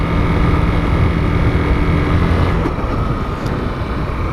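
A 2015 Honda CG 150 Fan ESDi motorcycle engine idles loudly and close with a strange knocking noise, a continuous low rumbling drone with a faint rhythmic texture and no speech.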